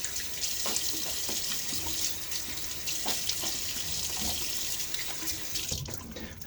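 Water from a bathroom tap splashing into a sink during a wet shave, a continuous rushing flow with irregular splashes, close and fairly loud, no voices.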